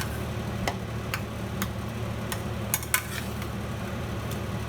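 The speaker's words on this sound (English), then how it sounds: "Mix everything together, the dal and the rava, everything together very well" A spoon stirring dal and rava together in a pot, with a handful of sharp clinks against the metal at irregular intervals over a quiet, steady background hum.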